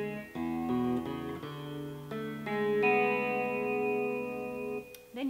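Chorus-laden electric guitar picks the first two phrases of a song, a short sequence of fretted and open-string notes ringing into each other, moderately loud and alone without talk.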